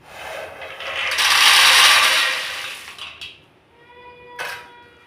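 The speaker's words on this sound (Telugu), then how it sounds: "బెల్లం తురుగుతున్నాను" A block of jaggery being grated makes a loud, rasping scrape that swells and then fades over a couple of seconds, followed by a few shorter scraping strokes, with no speech.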